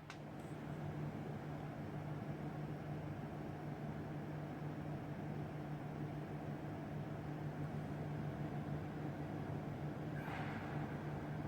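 A desktop computer booting into a Hackintosh with an AMD RX 480 graphics card gives off a steady, even hiss of fans spun up to full speed, with a faint low hum underneath and no talking.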